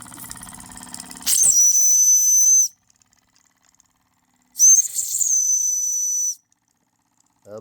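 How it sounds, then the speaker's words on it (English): A small steam engine burner lined with aluminum foil lets out two sustained, loud, high-pitched steam whistles with hiss, each lasting over a second and separated by near silence, following a brief rumble. "I do have some steam coming up"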